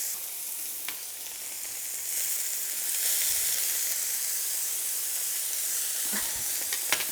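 Octopus tentacles sizzle on a smoky grill in a steady, loud hiss that swells slightly partway through, with a few faint clicks and knocks from the cooking.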